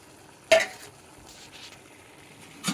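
A spoon stirs sweet rice mixed with ghee-fried almonds in a pan, making two sharp metallic scrapes, one early and one at the end, over a faint quiet sizzle.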